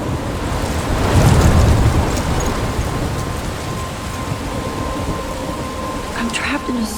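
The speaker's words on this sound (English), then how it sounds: "I'm trapped in a storm?" Thunder rolls in a loud, deep swell early on during a rainstorm near a lighthouse in the video game Life is Strange, then heavy rain hisses on without a break.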